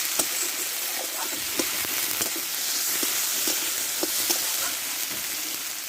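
A ground paste of ginger, green chili and whole cumin fries in hot oil for a Bengali rui fish curry with potatoes, making a constant close sizzle broken by light, scattered taps and stirring clicks.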